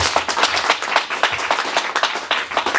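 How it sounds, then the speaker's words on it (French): Steady applause from a crowd, dense clapping throughout at a moderate level, with no talking over it. "Applaudissez pour vous-même."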